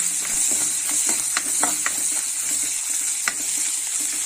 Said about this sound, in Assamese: এইখিনি মই পিঁয়াজ গোটেইখিনি ভাজি ল'লোঁ